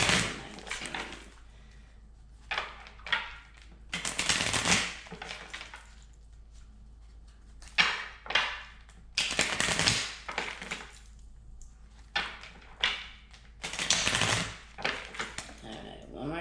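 Tarot cards are shuffled in several quick, crisp bursts of riffling and slapping, separated by quiet pauses, close to the listener.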